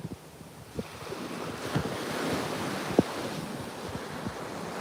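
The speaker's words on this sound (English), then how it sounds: "I'm just at the beach, and I'm grounding in the sand" Ocean waves washing onto a beach as the tide comes in, a steady broad surf rush with gusty wind noise on the microphone and a few soft thumps.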